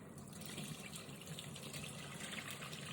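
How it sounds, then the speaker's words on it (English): Stock being poured into a pan, a soft continuous gushing splash that stays steady and fairly quiet for the whole moment, with no voices over it. "pour all your stock into a pan"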